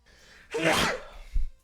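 A single sharp human sneeze, close and loud, with a quick intake before the burst and a soft thump after, heard without talk on a scuffed stream microphone.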